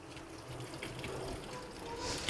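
Water runs steadily from a tap while blue corn is washed clean, a quiet, continuous splashing hiss with no clear breaks throughout.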